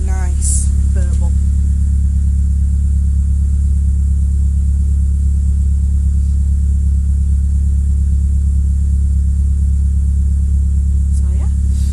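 A 1999 Nissan Avenir GT4-Z sits idling after a cold start, its engine holding a steady, deep low burble close by, with a brief voice near the start and end.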